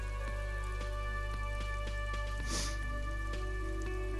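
Rain in the video game Disco Elysium, a steady soft patter of drops falling on surfaces over a constant low hum, with a brief brighter splash partway through.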